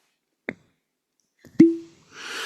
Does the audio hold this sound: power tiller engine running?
no